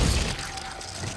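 Glacius ice spell cast in Hogwarts Legacy, a short crackling, shattering burst that starts loud and fades over about a second, with no voices.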